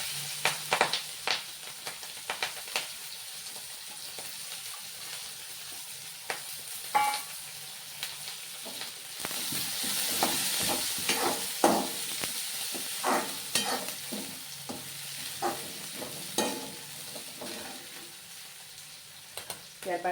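Shredded cabbage and chillies hit a hot pan with asafoetida and fry, giving a steady crackling sizzle with stirring scrapes and bursts of spatter throughout, close and alone.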